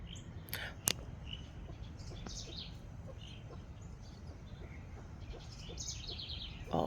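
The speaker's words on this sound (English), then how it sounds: "The house wrens are singing." House wrens sing in a morning garden, several brief chirps and twittering phrases at moderate distance over steady low background noise, with no voices present.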